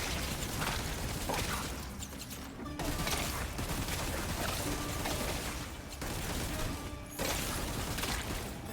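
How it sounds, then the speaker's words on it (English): Grenades burst again and again in the roguelite video game Hell Clock amid a dense, continuous wash of combat noise, with sharp pops and crashes standing out at a steady loud level throughout. "Love seeing the grenades pop."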